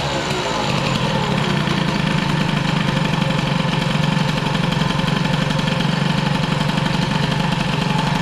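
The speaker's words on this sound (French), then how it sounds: "On entend la machine, dès qu'on met un coup de gaz" Peugeot 103 moped with an Airsal 65 air-cooled kit, a close, loud, buzzing two-stroke engine running continuously at high revs throughout, without talk.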